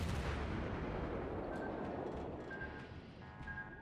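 Naval guns boom in a World of Warships battle, a heavy rumbling salvo at the start fading into a long decaying roar, followed by fainter distant reports.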